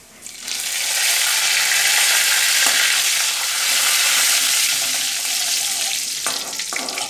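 Curry leaves frying in hot oil with cumin and green chillies for poha, a steady loud sizzle with occasional stirring clinks near the end.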